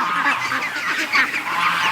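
Geese and ducks gathered on farm grass give a loud, continuous chorus of overlapping honks and nasal calls, close by and rising and falling over about two seconds.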